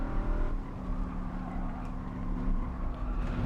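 Race car engine in Gran Turismo 7 holds a steady, loud harmonic drone under light, feathered throttle, with no sharp revving peaks and no voices over it.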